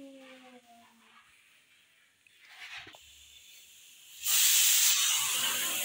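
A pressure cooker cooking rice releases a sudden loud, steady hiss of steam that takes over after a few quieter seconds of faint household sounds.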